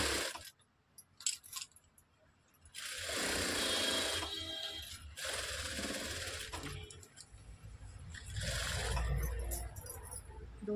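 A sewing machine stitches tucks into a simple blouse in two loud, steady runs separated by quiet handling clicks and rustles, close up.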